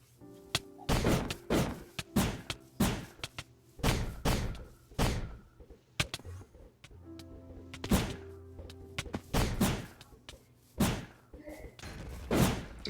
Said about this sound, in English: Wasting a lot of wind charges right now